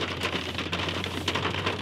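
Steady rain falls outside a house, a dense, constant patter with a low hum underneath, close and continuous with no voices.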